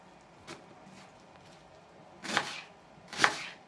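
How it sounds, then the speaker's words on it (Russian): Onion is chopped into half rings with a knife, probably on a board for shashlik, giving a few sharp cuts: a faint one, then two louder ones near the end, close and spaced, with no talk. "теперь рубаю цибульку. Я рубаю полукольцами"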